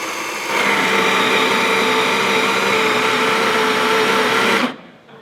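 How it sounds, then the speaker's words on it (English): A Baratza Sette 270 coffee grinder grinding beans, a loud steady whirring motor hum close up that starts abruptly and runs about four seconds before cutting off. "this is a little bit louder than most of their other grinders, so I'm not going to talk while it's running."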